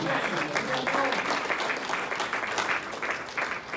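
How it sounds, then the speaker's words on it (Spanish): Applause from a church congregation in Hesperia, California, a dense, steady clapping that carries throughout, with a voice heard over it. "Denle un aplauso a Cristo en esta"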